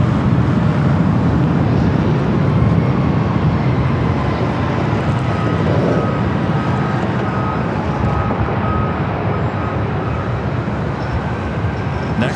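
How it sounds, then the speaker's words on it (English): A Southwest Boeing 737-700 arriving at LAX from Las Vegas, heard as a loud, steady low jet roar filling the whole span, with no talk. "Southwest, flight 3799, coming in from Vegas"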